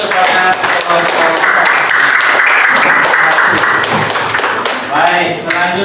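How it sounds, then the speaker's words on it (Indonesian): Audience at an Indonesian classroom presentation event claps for a presenting group, dense steady applause filling the whole stretch with a short dip near the end. "sekali lagi kita berikan aplaus kepada kelompok"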